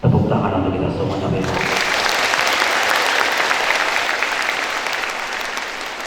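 Loud audience applause at a motivational seminar in Darussalam Gontor, a voice speaking briefly at the start before dense clapping swells in and carries on steadily, slowly fading toward the end.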